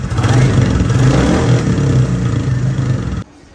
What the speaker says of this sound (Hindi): इसका एग्जॉस्ट की बात करते तो, एग्जॉस्ट नोट की बात करते तो सुनो ये भाई